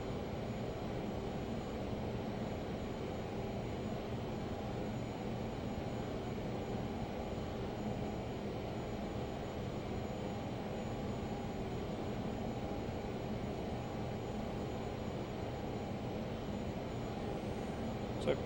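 A Learjet flies in a flight simulator on a trip from Long Beach to Las Vegas, its jet engines giving a steady, unbroken drone with no talk over it.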